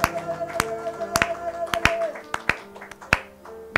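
A worship congregation claps during a church seminary service, sharp irregular hand claps ringing out over sustained music, with a voice briefly audible.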